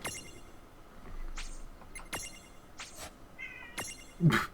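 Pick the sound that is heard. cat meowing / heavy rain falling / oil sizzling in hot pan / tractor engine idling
cat meowing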